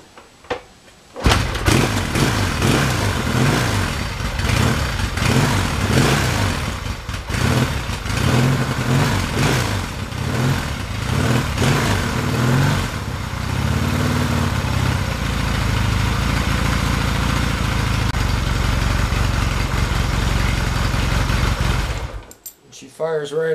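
A Yamaha XS650 motorcycle engine fires up after choke is applied, revving in loud throbbing bursts before settling into a steady, rumbling idle nearby, then cutting off near the end.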